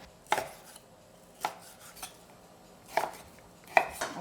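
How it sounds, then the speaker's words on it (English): A knife chops previously frozen beef into thin, small pieces for Korean seaweed birthday soup, giving four separate sharp knocks on a cutting board spread unevenly over a few seconds in a quiet kitchen, with no voices. "Cut into like a thin and small pieces to make delicious broth."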